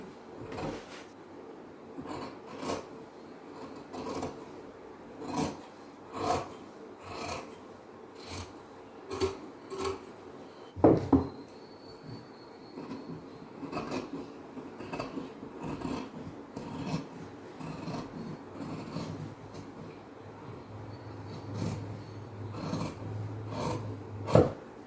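Large tailoring scissors cutting fabric for a chudidhar top, heard as steady repeated close snipping and rasping strokes across the cloth, with a sharp knock near the middle and no talking.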